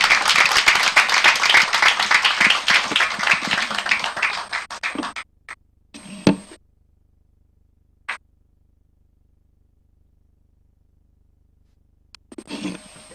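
An audience at a corporate sustainability report launch claps loudly after a presentation, dense sustained applause that thins out and stops, followed by a few isolated taps and a brief return of clapping at the end.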